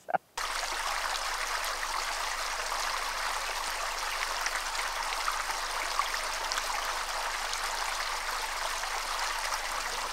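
A small stream flows with a steady, even rush of trickling water, close and continuous from start to end, no voices.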